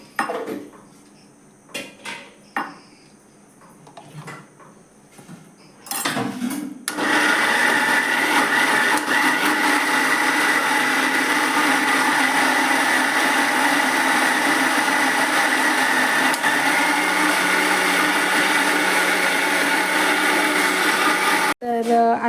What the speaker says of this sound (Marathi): जरासं पाणी घालून परत मिक्सर लावताला